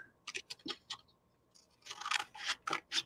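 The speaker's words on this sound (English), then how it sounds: "So I'm going to grab my handy scissors." Crisp snipping of scissors through paper, a few quick separate cuts followed by a longer run of steady cutting strokes, close by.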